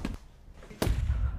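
Second gunshot in a violent street attack, a single sharp bang that cuts in abruptly and leaves a dull rumbling tail, heard at a distance over a phone line.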